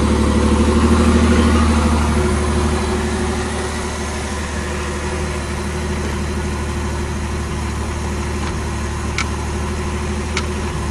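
Pontiac Fiero V6 engine idling steadily and fairly loud nearby, a continuous low rumble with no one speaking.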